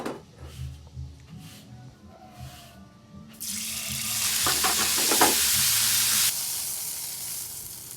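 Tofu for tokwa sisig sizzles and frys loudly in hot oil, a steady broadband hiss rising after a few seconds of quieter kitchen sounds and stirring, with brief bursts of spattering crackle.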